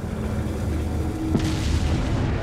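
An explosion in Resident Evil 4, a deep boom that swells midway and rumbles on in heavy low-end noise. It is loud and sustained, with no voices.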